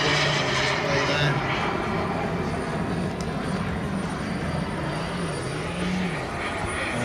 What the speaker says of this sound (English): And there's a second Vulcan